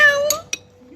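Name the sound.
person imitating a cat meow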